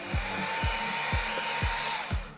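A hair dryer blows continuously at close range, drying paint on a vinyl Alien face hugger kit, with a regular pulsing thump repeating about every half second under its steady whoosh.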